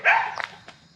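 A single sharp dog bark close by, followed by a couple of softer yips fading out quickly.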